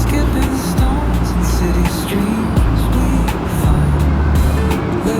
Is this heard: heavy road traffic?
yes